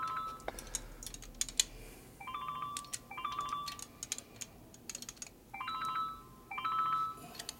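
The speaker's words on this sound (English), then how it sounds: "You know they're gonna make me have to pay for that ringtone there." Phone ringtone sounding in bursts of repeated electronic tones, several rings spaced a second or so apart, fairly close and clear over scattered clicks and light tapping noises in a workshop setting.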